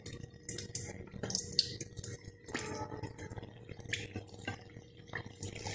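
Chandrakala gujhiya frying in hot oil, a soft crackling and sizzling with scattered dripping pops, close and fairly quiet, running steadily throughout.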